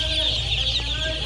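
Day-old Ross broiler chicks, around 42 grams each, chirp continuously in a poultry control shed, forming a dense, steady chorus of high peeping close by with no talking.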